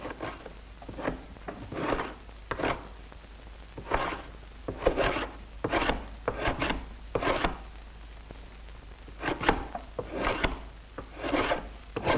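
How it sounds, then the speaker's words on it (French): A cooper's hollowing plane with a curved blade shaves the inside of wooden barrel staves in a hand cooperage, giving repeated rasping strokes in an irregular rhythm, each a short scraping sweep, close and clear. "Le dégrossissage de l'intérieur se fait à la plane à creuser dont la lame est cintrée."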